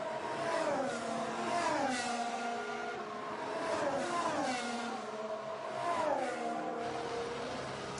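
Formula 1 race cars at the 2016 Bahrain Grand Prix, engines revving and shifting up through the gears in repeated rising howls as they drive past, loud and continuous.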